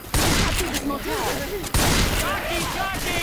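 Rapid gunfire in the Left 4 Dead 2 Dark Carnival campaign, bursts of loud shots and clattering game effects mixed with excited voices talking over the action.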